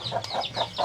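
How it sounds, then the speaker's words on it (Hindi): Free-range desi chickens cluck on a farm in Indonesia in a quick, regular series of short calls, nearby and fairly loud, with no speech. "इसमें मुर्गे रखे हैं भाई देखो। देसी मुर्गे हैं"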